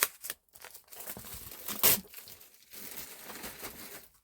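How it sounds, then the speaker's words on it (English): Crinkly plastic wrap is torn and peeled off a pad of 300 GSM watercolour paper, with close crackling and rustling bursts and a sharp rip near the middle, followed by softer crinkling. "Plastic off it."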